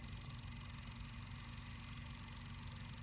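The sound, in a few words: small Snap Circuits rover electric motor running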